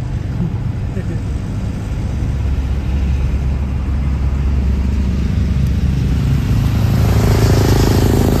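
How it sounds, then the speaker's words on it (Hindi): Steady, loud engine and road rumble from inside a moving family car on an Indian highway, a constant low drone with tire and wind noise that swells slightly toward the end. "रिजवान गाड़ी चला रहा है, सब फैमिली पीछे बैठी हुई है।"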